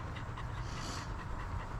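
A dog pants steadily outdoors in a summer hydrangea garden, rapid rhythmic breaths close to the listener over a constant wash of background noise.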